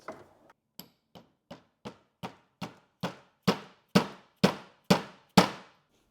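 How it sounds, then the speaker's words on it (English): A mallet strikes a socket to drive a part into a 1968 Mercury Cougar's power steering, with about a dozen sharp, steady knocks that grow louder toward the end, close and with no talk. "And now you just tap it in with a mallet."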